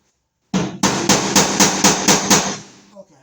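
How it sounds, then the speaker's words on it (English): A nail is tapped repeatedly into sheet metal to start a pilot hole while a range hood is being replaced, giving about seven sharp, evenly spaced knocks close by with no talking. "I poked a little pilot hole into the metal"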